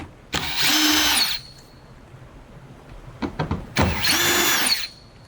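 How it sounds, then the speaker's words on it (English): A power drill twice whirs at high speed to back out the two screws holding a cover plate on a GE washer during a door reversal, each burst about a second long, with light clicks and handling between them. "You're gonna start off by removing this cover plate with the 2 screws located here."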